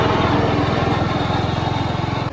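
A small homemade mini jeep's engine putters close by with a steady, rapid throb as it pulls away, holding an even beat before cutting off abruptly.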